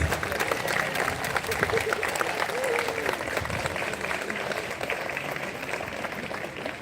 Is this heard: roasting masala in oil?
no